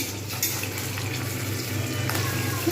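Bean and cauliflower curry frying in oil in a pan over low heat, giving a steady, close sizzle with soft bubbling and no talking.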